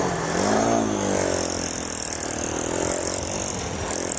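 A Honda CT90 motorcycle with a swapped-in Piranha 140cc engine rides along, its small single-cylinder engine droning steadily and loudly close by, pitch rising slightly as it pulls away.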